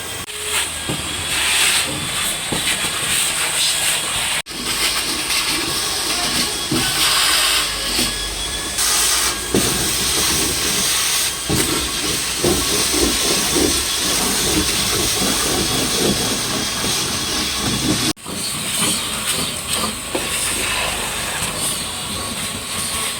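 Pressurized water sprays across the rusty, corroded floor of an Isuzu Panther during a deep-clean car detailing job, a loud continuous hiss with brief pauses and shifting spray intensity.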